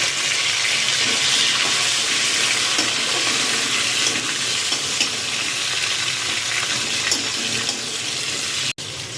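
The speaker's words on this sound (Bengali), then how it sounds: "এবার এতে দিয়ে দিচ্ছি আমি যে টমেটো একটা ছোট সাইজের কেটে রেখেছিলাম সেটা" Chopped tomato frying with ginger in hot oil for broken-wheat dalia khichdi, giving a loud, steady, close hiss of sizzling that runs throughout and cuts off abruptly near the end.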